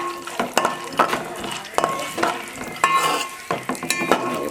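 Semolina (rava) fries in a pan while a spoon stirs it, giving a soft sizzle under repeated scraping and clinking strokes of utensil against metal, close and moderately loud.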